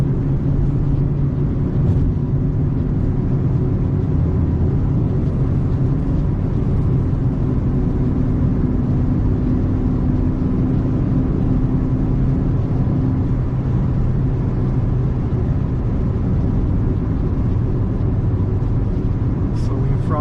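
A Renault Clio 3 car drives on the road toward the seaside, with a steady engine and road rumble heard from inside the cabin continuously throughout, loud and unbroken, with no talk.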